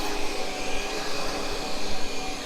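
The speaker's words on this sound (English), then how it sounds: "having just bitched about my cordless vacuum" A cordless vacuum cleaner runs loud and close in a home bedroom or bathroom, a steady high whirring motor drone with slight wavering pitch and no speech.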